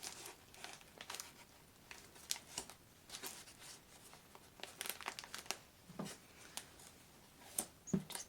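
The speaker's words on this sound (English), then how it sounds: "tape those into place" Paper goldfish flippers being taped into place on a craft fish, a run of close, dry crinkles and short tearing rustles in irregular bursts with brief pauses, no one talking.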